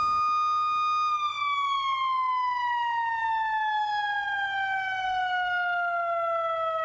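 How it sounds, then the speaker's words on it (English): A flood warning siren on the riverside alert system sounds during testing, a single loud tone that rises at the start and then slowly falls in pitch over several seconds, heard alone. "Emergency management crews spent the day individually testing each one of these sirens to make sure they work"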